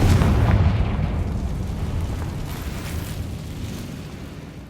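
A Confringo spell explosion in the Hogwarts Legacy video game, one loud, deep boom that opens the clip and rolls off into a long, fading rumble.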